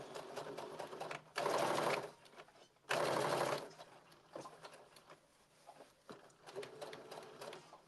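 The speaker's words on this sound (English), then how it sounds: "I'm stitching 5/8 of an inch, single loops" A sewing machine stitches a 5/8-inch seam with single loops on a blazer, two short bursts of steady fast whirring and then lighter intermittent running and clicks, close and fairly quiet, alone without talk.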